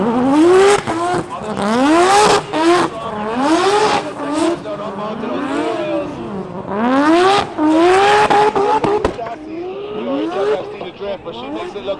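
A Nissan S15 drift car at a drift event, its engine loud and close, revs swinging up and down in repeated sweeps as it slows into the inner zone under left-foot braking, with harsh tire noise between the swells.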